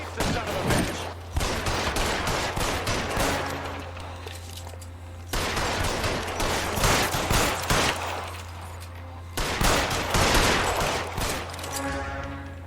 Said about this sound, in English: He is taking these bullets on the chin